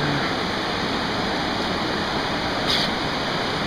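Water rushes steadily over small river rapids, a loud, unbroken broadband roar close by, with no voices.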